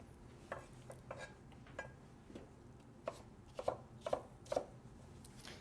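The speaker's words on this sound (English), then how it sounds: "Also gonna cut this in cubic." A knife chops through tuna salad ingredients on a cutting board, cutting them into cubes with a handful of quiet, irregular taps and sharper knocks that cluster toward the end, all close by and with no one talking.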